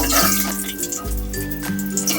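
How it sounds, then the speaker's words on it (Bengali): Two cloves, two cinnamon sticks and two cardamom pods fry in hot oil as a tempering for a whole-cauliflower vegetarian dish, giving a continuous close sizzle with no voices. "দিয়ে ফোড়নটা আমি খুব ভালো করে ভেজে নেব"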